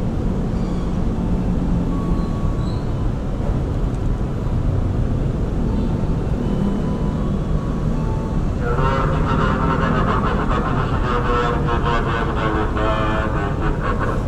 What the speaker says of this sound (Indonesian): oh ini kereta langka nih masuknya